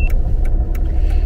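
Inside a car while driving, a steady low road rumble and engine hum with a few soft clicks and thumps over the top, no talking.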